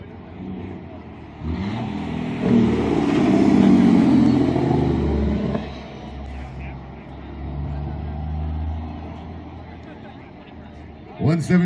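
A truck's Jake engine brake roars in a dynamic engine braking contest, a loud rumbling blast that swells and then tapers off. An announcer's voice carries over the engine and the quieter stretch that follows.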